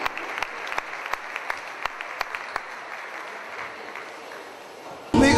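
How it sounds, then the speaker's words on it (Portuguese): Clapping for two boxers after a bout comes as scattered, fairly distinct claps from a small crowd that soon thin out, before a sudden louder burst of noise at the very end. "Esse aplauso para estes dois atletas"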